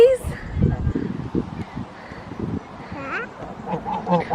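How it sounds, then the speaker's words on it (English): Ducks quack in short, scattered calls at a farm park in Maidstone, moderately close, mixed with rustling and family chatter throughout. "Duckies."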